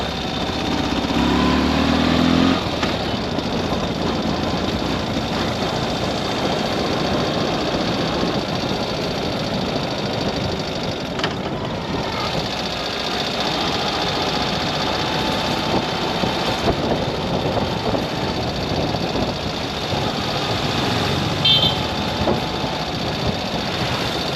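Motorcycle engine droning steadily while riding on the road, a loud continuous rumble with wind noise throughout.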